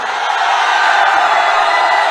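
Election rally crowd in Arwal, Bihar, a loud continuous wash of cheering and clapping from a large outdoor gathering, dense and unbroken throughout.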